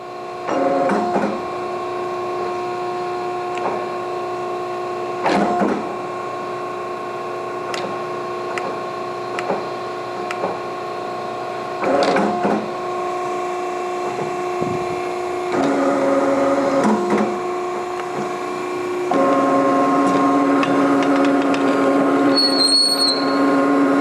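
JMT profile roll bending angle iron leg-in, a steady mechanical hum with sustained tonal whine and periodic clunks as the rolls engage, loud and close throughout.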